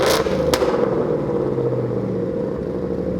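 A 2015-2017 Mustang GT fitted with a Borla Atak cat-back exhaust revs and then settles into a deep, loud, aggressive rumble, heard close and alone.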